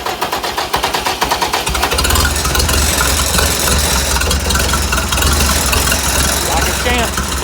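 A tractor engine cranks with a rapid rhythmic chug, catches after about two seconds and settles into a loud, rough, close diesel idle, with someone talking over it.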